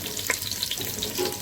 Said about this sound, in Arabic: ونبدأ ننزل الكوارع، نديها التشويحة كده او الصدمة